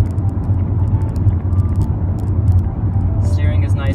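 A 2004 Volkswagen Golf cruising at about 55 mph on a freeway, with steady low engine and road rumble and wind noise throughout, and a person talking over it.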